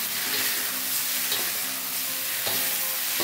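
Bitter gourd stir-frying with spices in a pan, a steady broadband sizzle with faint scraping stirs running throughout, close and continuous with no voices.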